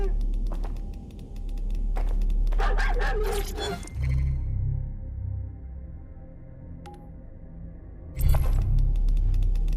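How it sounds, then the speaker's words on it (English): Border Collie in Watch Dogs Legion giving a few soft yips and whimpers between short barks, set among game sounds with talking nearby. "That's a bloody dog, man."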